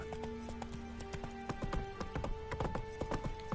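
Horse hooves trot at a steady clip-clop, with a quick run of hoof strikes growing denser and louder partway through, over a faint sustained tonal hum.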